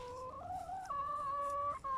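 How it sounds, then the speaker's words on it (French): A hen gives a steady run of close, loud clucks and squawks, its pitch stepping up and down across about two seconds with one short break near the end. "Elle est très bavarde cette poule"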